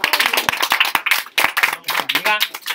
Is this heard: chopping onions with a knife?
no